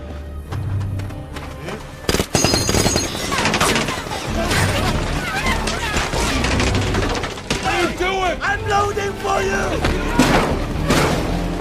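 Bursts of gunfire with mechanical clatter and thuds in a loud, busy action film scene, shots repeating over several seconds amid other effects.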